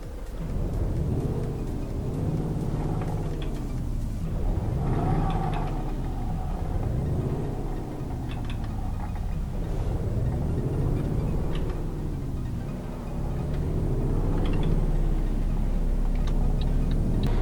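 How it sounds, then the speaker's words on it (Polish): A Volvo FH16 truck engine in Euro Truck Simulator 2 drones steadily, its pitch rising and falling repeatedly as it revs through gear changes, with a low constant rumble underneath. "Słyszycie, mam nadzieję, słuchajcie, dźwięk silnika"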